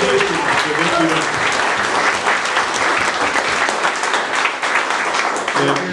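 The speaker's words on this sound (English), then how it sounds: "he deserves a round of applause" A crowd at a community commemoration event bursts into loud, dense, sustained applause, a continuous wash of clapping from start to finish, with a brief voice surfacing at the very end.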